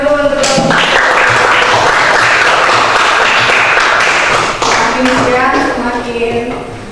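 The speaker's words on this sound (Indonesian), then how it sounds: "Kasih tepuk tangan dulu untuk kelompok." A classroom gives applause for a group of students, a steady rush of many hands clapping that runs through most of the span, with voices talking and calling out over it.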